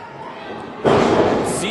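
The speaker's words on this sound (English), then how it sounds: "a good double underhook butterfly bomb right there" A wrestler is driven into the mat with a double underhook butterfly bomb, a sudden heavy slam that cuts through crowd noise and excited commentary partway through.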